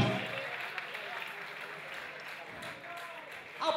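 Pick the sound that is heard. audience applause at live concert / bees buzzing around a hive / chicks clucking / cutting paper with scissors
audience applause at live concert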